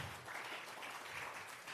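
A church congregation claps together as an offering of praise to God, a steady even round of applause held for a couple of seconds, soft and distant.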